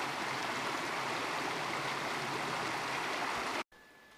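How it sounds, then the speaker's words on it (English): Small streams pour into a river along a Japanese riverbed, a steady, dense rush of flowing water heard close and loud that stops abruptly near the end. "Walking up the riverbed, there are lots of little streams coming into the main river."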